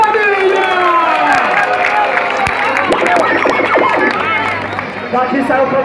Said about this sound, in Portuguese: Antes de mais nada, palmas pra essa batalha, família!